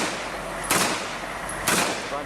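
Gunfire from Afghan soldiers battling Taliban fighters in news footage, two sharp, fairly loud shots about a second apart over a steady background hiss.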